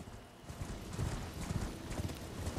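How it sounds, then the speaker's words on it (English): A horned horse gallops in Elden Ring, its hooves drumming in a steady, rhythmic clip-clop at moderate loudness over a soft background wash. "And then you have your very own horse with horns."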